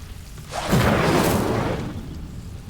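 An Incendio fire spell cast in Hogwarts Legacy, heard as a single loud, roaring whoosh of flame that swells quickly, holds for about a second and then fades.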